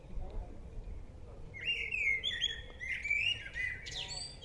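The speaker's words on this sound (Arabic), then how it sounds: "اسمع لي صوت التغريد هذا، ذاك يغرد وهذا منه راح يغرد." Small birds chirp and twitter in a park beside a lake in Bruges, Belgium, a run of bright, quick whistled calls at moderate distance over soft outdoor ambience.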